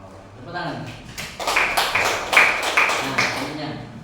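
Clapping in a school setting, a burst of rhythmic hand claps that builds over a few seconds, with voices talking over it.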